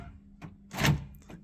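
Door lock actuator on a Honda Del Sol with a faulty door handle, a few quiet mechanical clunks and one louder thud of the lock working, close and alone.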